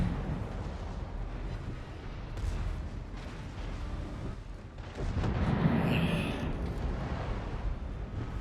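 Tier 5 battleship guns fire in the World of Warships naval combat game: continuous deep, rumbling booms and distant blasts that swell louder partway through, with no voices.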